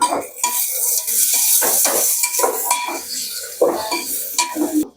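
Reddened onion with ginger-garlic paste and coriander is stirred in a pan for a Marathi mutton curry, loud close metal spoon scrapes and clanks in a steady rhythm over a light sizzle.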